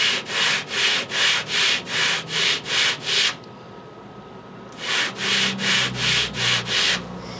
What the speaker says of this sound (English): I got it all sanded down